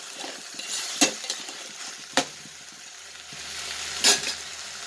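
Curry leaves sautéing in sesame oil for a fenugreek and small-onion kuzhambu give off a soft, close sizzle, broken by a few sharp spatula clinks against the pan.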